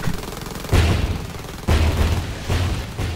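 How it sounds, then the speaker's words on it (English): Booming explosions in the video game Silica, three heavy blasts roughly a second apart, each with a loud low-end thump and a decaying rumble, set against continuous battle noise. "I hear explosions all around me."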